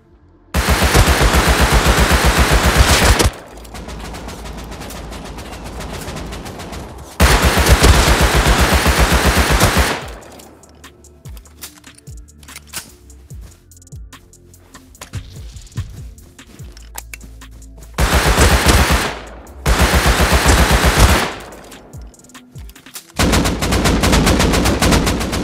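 Loud bursts of automatic gunfire in the video game Rust Console Edition come in long sustained volleys, separated by quieter stretches of scattered distant shots and ambient noise, with no talking.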